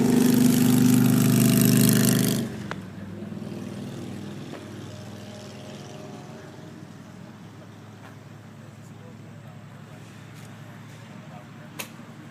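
An older Freightliner road tractor-trailer truck at a CDL training yard, its engine running loud and close for about two seconds before dropping to a low, steady idle that rumbles on to the end.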